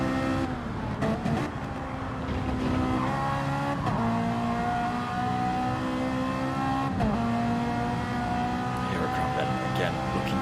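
Touring race cars in a championship final round roar through Clark Curve, engines revving and shifting in steady rising and falling tones, loud and close, with a race commentator talking over them.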